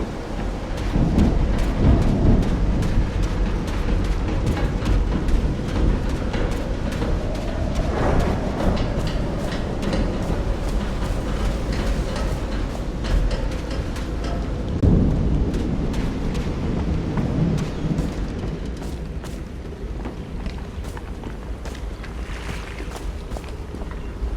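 A thunderstorm in the video game Call of the Sea rumbles on with a steady, loud wash of rain and low booming thunder rolling through, with no one speaking.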